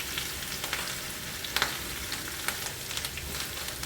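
Garlic fries in hot oil in a pan, a steady crackling sizzle with scattered sharper pops and spits, close and alone without talk.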